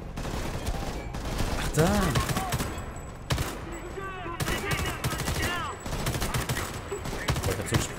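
Assault rifle fire in the shooter game Homefront: The Revolution, bursts of rapid shots amid other game sounds, with someone speaking briefly over the action.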